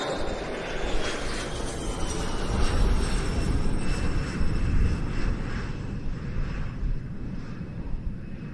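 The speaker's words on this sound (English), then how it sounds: "the Swiss Air Force Challenger, which we saw arriving not long ago, now departing from the right-hand side" A Swiss Air Force Challenger business jet departing at an airshow, its engines giving a loud, steady roar with a broad rumble and a whining high tone, sustained throughout with no voices.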